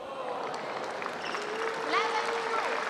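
A crowd at a table tennis match between Seattle and Portland applauds in a steady diffuse patter of clapping, moderately distant, beneath a voice talking throughout.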